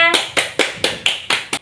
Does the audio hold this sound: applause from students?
yes